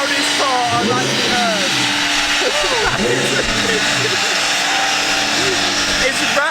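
A twin turbo Lamborghini engine roars in a loud, unbroken drone while people talk over it.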